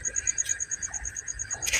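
Bird chicks in a clay-pot nest on a farm give a steady, high, pulsing chirp that repeats evenly, with a couple of brief rustling bursts and low background rumble.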